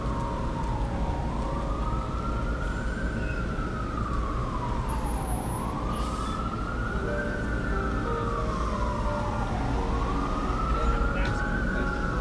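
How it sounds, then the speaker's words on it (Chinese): An ambulance siren on a New York City street wails in slow rising and falling sweeps, loud and steady over a constant low rumble of traffic. "救护车基本上是白来了"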